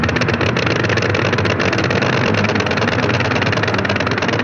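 An early aircraft engine runs continuously, a loud, dense, buzzing drone that holds steady throughout with no voices.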